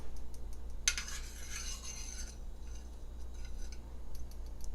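Coconut oil gets stirred in a pan to melt it, with a sharp metallic clink of a utensil against the pan, a short ringing scrape, then faint light taps and ticks, all close and quiet.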